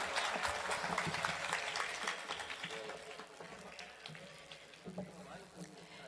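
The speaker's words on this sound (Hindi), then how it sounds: "आप अपने लिए तालियां बजा दें" Audience applause at an Urdu poetry mushaira in Dunia Pur, a dense patter of clapping that holds steady and then slowly thins out, with some voices mixed in.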